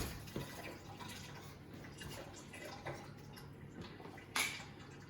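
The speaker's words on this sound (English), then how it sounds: "Just quickly wash my hands" Hands rinsed under a running kitchen tap while cooking, a faint, steady wash of water with a few soft splashes and one brighter splash near the end.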